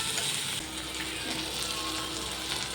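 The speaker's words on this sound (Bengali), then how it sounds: "টমেটো কুচি দিয়ে আবার 3-4 মিনিটের জন্য ভালো করে কষিয়ে নেব" Chopped tomato sautéing in a pan with a fish curry base, giving off a loud continuous sizzle and hiss that is close and steady.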